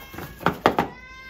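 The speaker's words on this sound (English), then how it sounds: "This box is meowing." A cat meows from inside a closed box, giving three short, muffled calls in quick succession, close by in a quiet indoor room.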